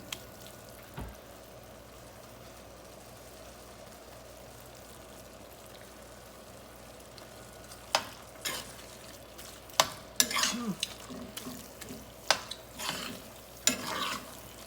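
Onions and garlic frying in a pan for shepherd's pie, a quiet steady sizzle broken in the second half by several sharp scraping and clacking stirs of a utensil; no speech.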